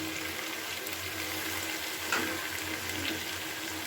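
Hot oil hisses and sizzles steadily in a pan of frying potatoes as cut eggplant is tipped in, with a slight surge in the crackle partway through.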